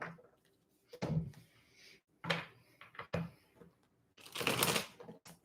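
Quiet bursts of tarot cards being shuffled, several rustling riffles separated by pauses, close by with no talking.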